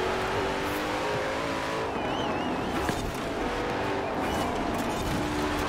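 A Koenigsegg Jesko supercar driven in the video game Forza Horizon 4, its engine a steady loud drone with shifting tones and faint tire noise, continuous throughout under a voice.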